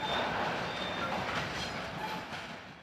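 A Reichsbahn freight train hauling iron ore from Rostock harbour to Unterwellenborn rumbles past steadily, with broad rolling rail noise that fades slightly toward the end.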